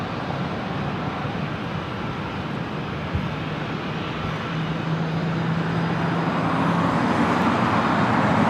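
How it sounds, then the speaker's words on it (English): A Delta Airbus A321neo jet on approach to runway 24 right at LAX gives a steady broad roar that swells slightly toward the end, heard from nearby outdoors without talk. "Another Delta A321 Neo heading over here to 24 right"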